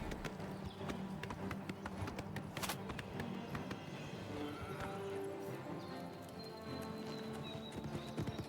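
Galloping horse hooves in Oblivion Remastered, a busy run of clip-clop beats with a whinny, close and loud amid game combat sounds and a little speech.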